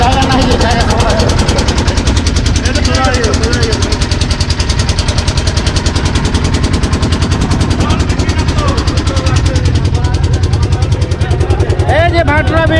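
Motor boat engine thrumming steadily on Vatra Bill lake, a loud, continuous low drone with a rapid chugging pulse running throughout, while people talk over it.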